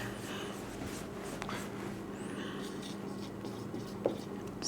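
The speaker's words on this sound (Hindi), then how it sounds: "मैं ऊपर यहाँ पे लिख भी देता हूँ" Writing on a board during a maths lesson on quadratic equations, soft scratchy marker or chalk strokes over a steady room hum, with a brief sharper tap near the end.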